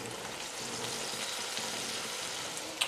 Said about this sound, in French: on va la laisser saisir de tous les côtés